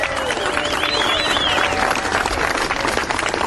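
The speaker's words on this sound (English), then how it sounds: "Give yourself a big round of applause." A rally crowd breaks into sustained clapping and cheering, dense and loud throughout, with voices mixed into the applause.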